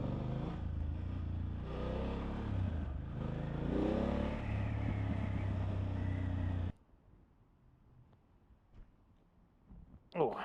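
A 2024 BMW F800 GS motorcycle engine revving up from closed throttle, a close, rising mechanical growl with wind noise that builds over several seconds before cutting off abruptly to near quiet.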